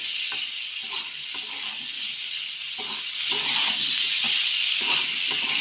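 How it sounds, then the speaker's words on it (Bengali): Amla being stirred in hot oil with salt and turmeric sizzles with a steady hiss, broken by soft repeated scraping and stirring strokes close by. "লবণ আর হলুদ দিয়ে খুব ভালোভাবে নাড়াচাড়া করে নেবো আমলকিগুলো"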